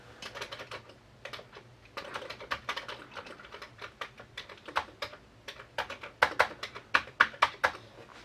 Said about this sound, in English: The keys are really sharp, like it hasn't been typed on a whole lot